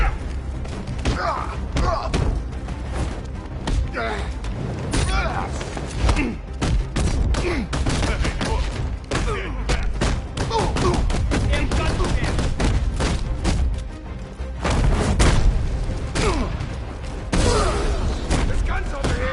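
Gunfire in the video game Batman Arkham Knight: dense, loud bursts of shots and heavy thuds packed close together, with a voice shouting over the barrage throughout.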